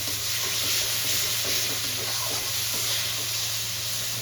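Ginger, garlic and green chili paste sautéing in a pan for a jackfruit and prawn curry, a steady close sizzle with a broad hiss that holds even throughout, no voices.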